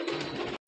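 Pet pigeons kept at a house coo in a low, murmuring run close by, broken by a short silent gap before the cooing resumes.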